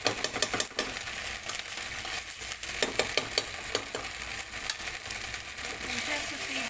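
About a tablespoon of ginger garlic paste sautéing in a pan for aloo keema, a continuous hiss with clicking spatula strikes and scrapes scattered throughout, fairly close and steady, with no talk.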